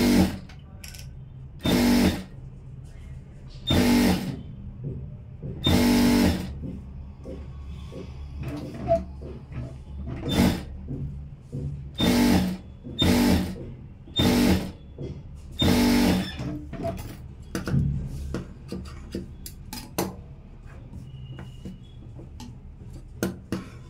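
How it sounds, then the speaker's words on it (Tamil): A sewing machine runs a straight seam on a blouse in quick repeated bursts, each a short rapid whirring chatter separated by brief pauses, close and clear with no talking. "இப்போ இந்த இடத்துல ஒரு தையல் ஒன்று போட்டுடுறேன் ஸ்ட்ரைட்டாக."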